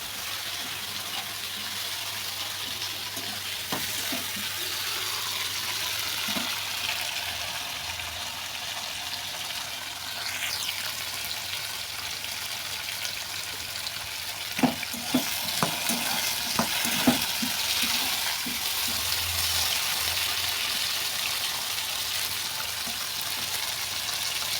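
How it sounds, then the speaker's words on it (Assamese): Vegetables frying in a home kitchen pan, with salt and turmeric about to be added, give a steady low sizzle. A spatula scrapes and clatters against the pan, and the clinks and stirring knocks grow busier in the second half. "এয়া মই ভাজিখিনি কৰি লওঁ"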